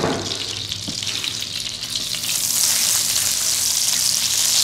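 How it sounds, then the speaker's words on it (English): Butter melting and sizzling in a pan while being stirred, a steady bright frying hiss that swells louder midway and holds to the end. "We're going to stir our butter around here and get it melted and stuff"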